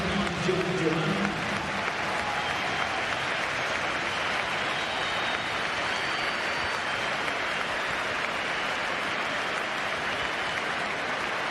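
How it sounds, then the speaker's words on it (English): Stadium crowd applauding as Aston Villa's Jon Duran is substituted during a Premier League match against Man City, a broad, steady roar of clapping filling the full stretch, with commentary voices over it. "Huge applause for Jon Duran, hardly surprising."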